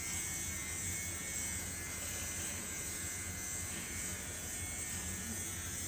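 An electric lint remover machine runs across fabric, a close, steady high-pitched motor buzz that holds evenly throughout.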